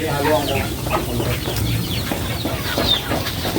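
Darag chickens cluck and chatter steadily in a busy farm setting, with several birds close by and continuous background coop noise throughout the short stretch.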